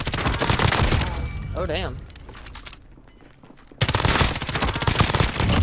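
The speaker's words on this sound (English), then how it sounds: "Bastards are targeting me. Shooting at me." Gunfire crackles in an online shooter video game as rapid bursts of automatic fire sound close and loud at the start, then pause while someone talks. A sharp burst of shots returns near the end.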